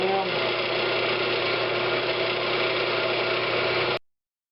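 A woodturning lathe spins a walnut hollow form at 1,000 RPM, giving a steady loud motor hum and whir that runs unbroken for about four seconds before cutting off abruptly into silence.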